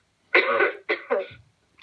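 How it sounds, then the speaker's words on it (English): A single close cough followed by two shorter coughs in quick succession, then a brief catch of breath. "excuse me, I'm going to cough"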